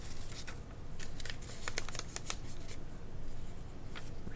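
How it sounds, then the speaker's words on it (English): Paper being folded and creased for a handmade zine gives a series of soft crinkles and sharp crisp snaps up close, with no talking. "I'm going to take that, fold that down."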